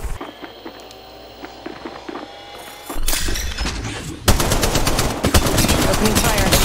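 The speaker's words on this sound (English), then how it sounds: "Opening fire." Bursts of gunfire in the mobile battle royale game Apex Legends Mobile, sharp rapid shots starting mid-clip and growing loud and dense toward the end over quieter game ambience.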